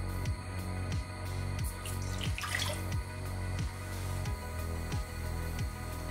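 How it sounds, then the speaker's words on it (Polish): Water trickles and splashes steadily into a pot with butter in it, a soft continuous pour over a low background hum, no voices. "oraz dodam wodę"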